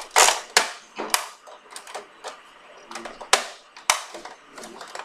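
A NERF Sling Fire blaster is cocked and fired, producing sharp plastic clacks and snaps in an irregular series, several loud and close, with quieter mechanical rattles between them.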